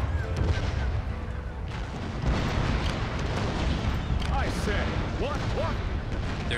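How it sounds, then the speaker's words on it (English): Cannon fire booms continuously during a siege on a Japanese coast in the strategy game Total War: Shogun 2 – Fall of the Samurai, with dense overlapping blasts rumbling under busy battle noise. "Man, listen to the cannon fire."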